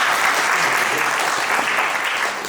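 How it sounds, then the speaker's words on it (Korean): Audience applause at the closing session of a Korean academic conference on civic education: a brief, lively burst of many hands clapping together that tapers slightly at the end. "박수 한번"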